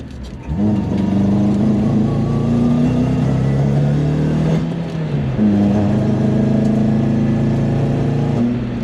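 A 1996 car driving at steady speed, its mid-pitched engine droning loudly and continuously close by, with a rising revving pull near the start and another shift in engine note around the middle.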